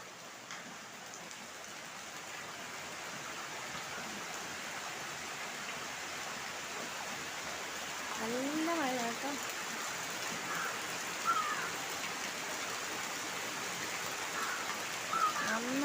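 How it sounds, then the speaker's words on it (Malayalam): Heavy rain pouring down continuously, a dense, even hiss of drops on surfaces, with a few faint bird calls breaking through in the background. "ഭയങ്കര മഴയാണ്"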